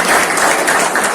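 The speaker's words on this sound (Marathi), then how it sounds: "जोरदार टाळ्या वाजवून" A short, steady burst of applause from the audience at a felicitation ceremony for top board-exam students, dense clapping filling the moment.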